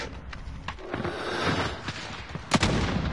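Gunfire in a multiplayer shooter video game: scattered shots and bursts with one sharp, louder crack near the end, over a busy game background, with no talk.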